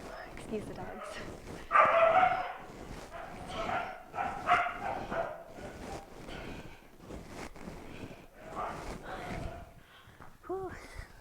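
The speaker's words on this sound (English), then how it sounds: "Excuse the dogs." Several dogs barking indoors during an upper-body dance fitness class, repeated sharp barks and yips scattered throughout, moderately close, mixed with a person talking and breathing heavily.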